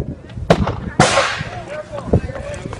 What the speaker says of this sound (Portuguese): Eu vi aí a explosão.